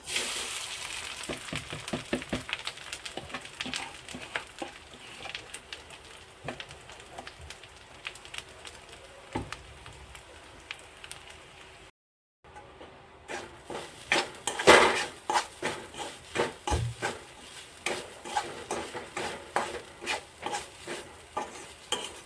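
Grated coconut roasts in hot ghee in a pan while a spoon stirs steadily, giving continuous close scraping and soft sizzling that grows louder and more rhythmic after a brief pause.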